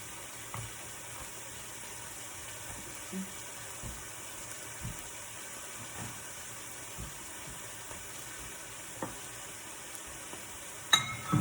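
Thai green curry cooks in a pan with a faint, steady sizzle and simmer, broken by a few soft clinks and a louder knock near the end.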